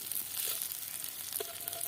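Fritters of wild helencha greens and bitter gourd leaves frying in hot oil, a soft continuous sizzle and crackle with a couple of faint clinks, heard close and alone without voices.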